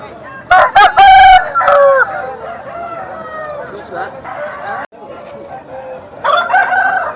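Roosters at the Nallapadu rooster market crow loudly and close, one long crow cutting through market chatter, followed by clucks and further crowing from nearby birds amid steady crowd noise.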